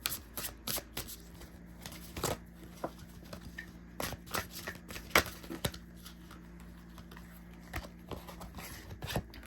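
Tarot cards being shuffled by hand, heard as sharp, irregular riffling bursts and soft card slaps spaced across a quiet room, close and fairly faint, with no speech.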